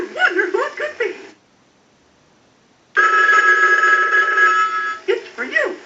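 A Pacific Bell animated Mickey Mouse telephone on an analyzer ring cycle: the toy's squeaky animated voice and giggles, a pause of silence, then a loud sustained electronic ring, followed by more cartoonish voice chatter.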